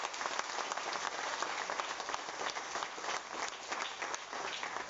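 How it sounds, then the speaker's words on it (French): An audience applauds steadily at a public event for Phoenix Beverages Limited in Mauritius, a dense, sustained wash of clapping that fills the whole stretch without letting up. "Nous applaudissons bien fort la compagnie Phoenix Beverages Limited."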